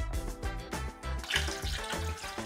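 Water pours from a tap into a container being filled for a cast iron restoration soak. It sounds as a steady, close, splashing rush with rhythmic gurgling pulses throughout.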